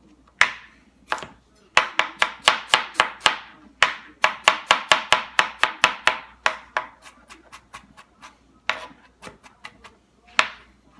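A knife chops cauliflower on a cutting board in rapid, crisp strikes, close and distinct, coming in bursts with short pauses, no talking.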